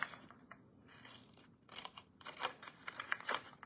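Scissors snip through paper while fussy cutting around a stamped image for a card: a quiet, close series of crisp cuts and light paper rustles, growing busier and more rapid toward the end.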